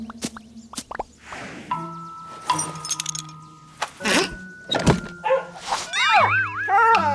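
A cartoon dog barks and whimpers among plops, jangles and dings in an animated scene, short yelps scattered over several seconds with a few rising whines near the end, no clear talk over it.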